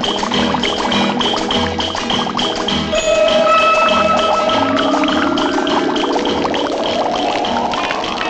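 Petrol gushes out in a steady, continuous pour, loud and close, with a rising gurgling tone as the liquid splashes and spills out of its container.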